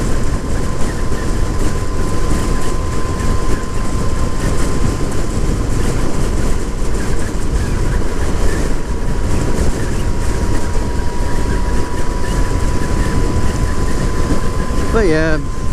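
A 2017 Yamaha FZ-09 (MT-09) motorcycle cruises at steady speed, its engine drone blending with heavy, loud wind rush and road noise, and a rider's voice comes through faintly under it.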